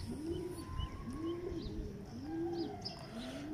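Teddy pigeons coo nearby, a series of soft, rolling low coos repeating about once a second, with faint chirps in the background and no talking.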